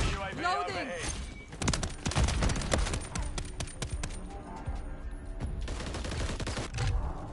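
Shotgun fire in Modern Warfare III, with sharp repeated blasts and crackling gunfire clustered throughout, while people talk and shout over the action.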